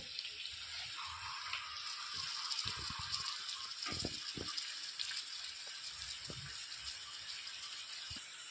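Small kajuli fish sizzle in hot oil in a pan, a soft steady frying hiss with scattered low clinks and knocks of utensils, fairly quiet and without talking.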